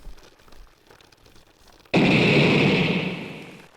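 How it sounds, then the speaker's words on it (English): A sudden loud explosion in a video game bursts in after a quiet stretch with faint sounds, then rolls on as a sustained, roaring blast that slowly fades. "An explosion."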